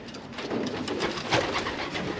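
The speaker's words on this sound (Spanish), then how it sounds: "Tiene dos pichones con un palomo de Andy Ski." Pigeons coo softly in a loft, with several low murmuring coos repeating in a gentle rhythm, fairly faint and close.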